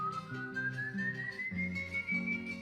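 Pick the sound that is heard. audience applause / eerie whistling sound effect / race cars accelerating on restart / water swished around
eerie whistling sound effect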